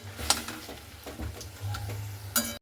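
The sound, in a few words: stirring chopped coriander leaves in a pan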